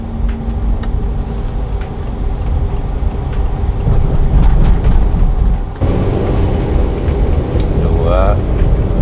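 A Toyota Avanza under way on a fairly empty road during a speed test, its engine and road noise forming a steady loud drone that rises and changes as it accelerates, with a voice talking over it.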